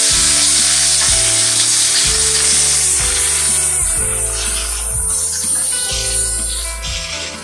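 Egg paturi wrapped in banana leaf frying on a tawa, a steady loud sizzle with crackling spatter running continuously, fading slightly toward the end.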